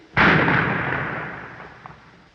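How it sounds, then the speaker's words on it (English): A single loud gunshot rings out in the 1931 Dracula film, a sharp crack followed by a long, fading boom, with no voices over it. "Gunshot."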